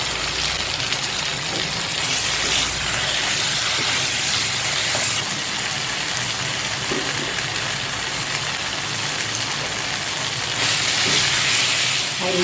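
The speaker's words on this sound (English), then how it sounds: "I won't cover it, I'll just let it fry now." Three-chilli chicken masala fries uncovered in a pan, giving a loud, steady sizzling hiss that barely changes for over twelve seconds, close and with no talk over it.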